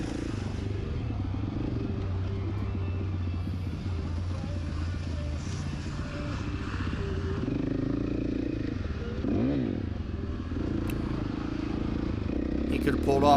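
An FC450 dirt bike engine drones steadily and close at riding speed while overtaking another rider on a trail, with a slight rise in throttle toward the end.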